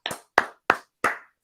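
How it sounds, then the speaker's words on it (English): Four sharp, evenly spaced hand claps, close and loud, each with a short decaying ring and silence in between. "Yes, let's clap it up."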